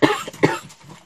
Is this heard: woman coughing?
yes